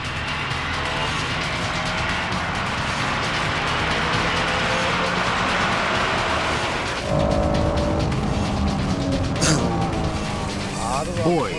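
A Honda NSX-R race car passes a GTO for the lead on a slippery track through a hairpin, its engine droning loudly with a sharp change partway through, under a commentator's continuous talk.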